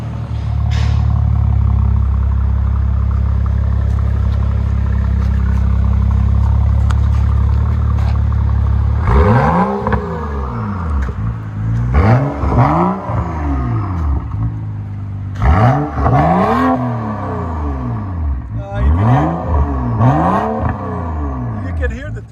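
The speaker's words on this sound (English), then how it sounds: "You can hear the turbo spool." A straight-piped BMW 335i 3.0L with a high-flow downpipe idles with a steady rumble, then barks through four sharp rev blips, each rising and falling, loud and close.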